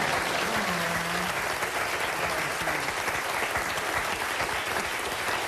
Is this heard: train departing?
no